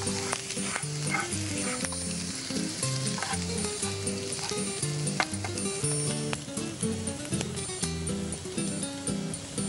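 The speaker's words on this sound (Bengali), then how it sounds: "একটুখানি রসুনটা একটু ভাজা ভাজা হতে হবে" Garlic and green chilli frying in butter for burnt garlic rice on a television cooking show, a busy sizzle running under continuous background music with frequent clicks and clatter.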